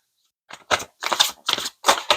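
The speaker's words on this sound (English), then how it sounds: "I'm going to shuffle this deck." Crisp papery riffling of a tarot deck being shuffled comes in four or five quick bursts with short pauses between, close and fairly loud, with no talking.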